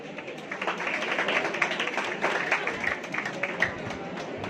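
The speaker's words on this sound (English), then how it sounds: "Keep clapping, please." An audience at a university college annual function applauds steadily, a dense wash of many hands clapping at moderate volume for several seconds with no clear speech on top.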